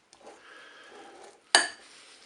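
Lentil and avocado salad being tossed with vinaigrette in a bowl, a soft continuous scraping and stirring followed by one sharp utensil clink against the bowl near the end.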